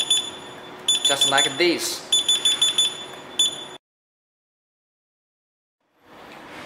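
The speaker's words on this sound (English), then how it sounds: "Quick press on the reset button with the 2 beeps." Electronic hidden lock, the Eproer EP-C101, sounding a rapid series of short beeps after its reset button is pressed, close and fairly loud under a speaking voice, then cutting to silence.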